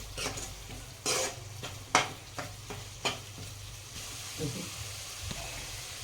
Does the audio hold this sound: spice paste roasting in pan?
yes